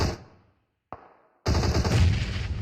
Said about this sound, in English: Shots are very violent right now.